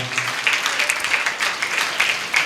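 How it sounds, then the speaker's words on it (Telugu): A church congregation claps loudly in unison, a dense, rhythmic burst of many hands beating together, steady and close for the whole stretch with no talk over it. "గట్టిగా చప్పట్లు కొడుతూ యేసయ్యకి మహిమ చేద్దామా."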